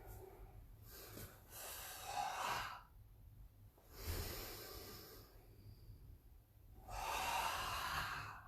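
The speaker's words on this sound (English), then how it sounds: "Now I'm exaggerating the noise because I want you to hear how I'm breathing." Exaggerated breathing during a warm-up exercise, several loud, drawn-out inhales and exhales with snorting air through the nose, separated by short pauses, close and alone.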